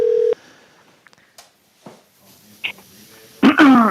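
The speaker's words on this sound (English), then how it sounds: "We're just going to call him directly here." Telephone dialing on a TV morning show set while placing a call: a short steady tone burst at the start, scattered faint beeps and clicks, then a voice begins at the end.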